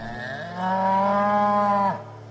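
Oxen lowing in one long, loud, steady moo that rises at the start and breaks off sharply near the end, heard alone and close by.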